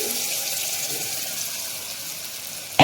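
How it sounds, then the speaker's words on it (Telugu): Water poured from a tap-like stream into dal paste in a cooking pan, a steady broadband splash lasting throughout, ending with a brief louder clatter. "కొన్ని నీళ్ళు వేసుకొని వేసుకున్నామండి."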